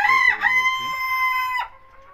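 Chickens kept in a cage in a rooftop garden, one loud, close rooster-like crow ringing out alone, followed by a brief lower cluck.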